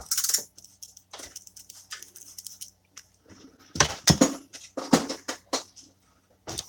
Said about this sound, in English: So we're just going to spray it down.